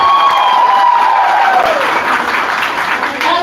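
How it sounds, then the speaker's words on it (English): Loud crowd applause and cheering for a rapper at a live Poumai music event in Delhi, with a descending whistle-like tone early on and continuous clapping that eases slightly toward the end. "Please give a big applause on the street for him."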